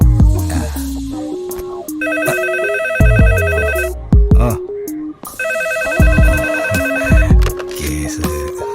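A telephone rings in a police station with a loud electronic ringing in repeated bursts, layered over a busy musical background with other tonal sounds.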